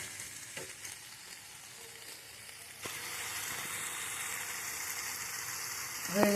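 Spice paste cooking in oil in a covered pan until the oil separates, giving a steady, even sizzling hiss that swells louder partway through, with a brief clink near the end.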